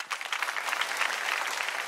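An audience applauding a comedy stage performance, a short burst of steady mid-sized clapping, fairly close and even, fading slightly near the end.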